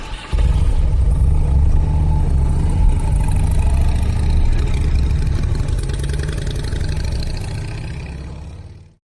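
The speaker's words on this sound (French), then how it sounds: "J'ai enfourché ma moto, une MZ ETS 125, un vrai tracteur, la Harley de l'Est," MZ ETS 125 motorcycle engine running steadily and loud, a dense low-pitched drone holding for about nine seconds, then cutting off abruptly.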